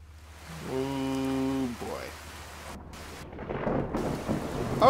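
Thunderstorm in the video game Fallout 4: a brief voice first, then a broad rushing wash of rain and low rumbling thunder that swells toward the end.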